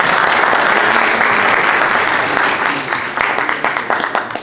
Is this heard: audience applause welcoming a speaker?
yes